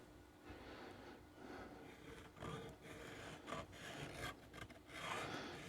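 Paint is scuffed on a steel target, a faint dry rasping and rubbing with uneven strokes, quiet and close, with no voices.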